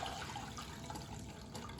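Pickled carrots for a carrot achar being poured into a strainer, a steady close wash of splashing liquid and trickling water running for about two seconds with no pauses.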